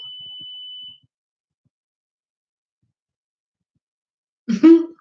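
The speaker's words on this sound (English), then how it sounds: "I'm sick of that dang alarm going off and that beeping noise" Smoke alarm giving a single sustained high-pitched beep for about a second, followed by silence and then a brief burst of a voice.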